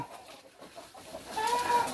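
Chickens cluck and squawk as they are chased and caught by hand on a farm, faint at first and growing louder and busier in the second half.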